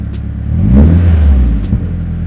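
Nissan S13/180SX engine blips once, rising to a short loud rev and settling back to a steady idle rumble, close up.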